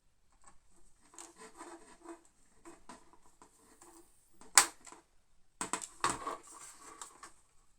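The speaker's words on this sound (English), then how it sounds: "Last 2 screws just going in now." Small screws are driven into the bridge deck of a Titanic scale model, giving intermittent soft scraping and rubbing with a few sharp clicks, close and fairly quiet.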